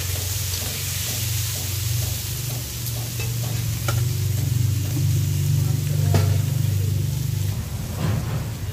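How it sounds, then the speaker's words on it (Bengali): Turmeric being stirred into food frying in a pan, a steady loud sizzle with a low hum under it and faint scraping of a spoon, close up. "একটু হলুদ দেওয়া হলো, ভালো করে আবার নেড়ে নেওয়া হচ্ছে যাতে হলুদটা ভালো করে মিশে যায়।"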